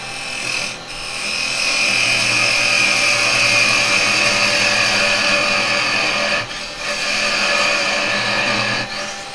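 Wood lathe spinning steadily while a tool cleans up the wobbly bottom of a small wooden turning for pendants, a continuous close whir with two brief dips in the cutting, no talking.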